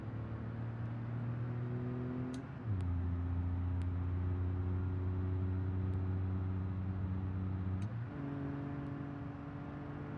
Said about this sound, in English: If I can't hear the car, I have problems driving.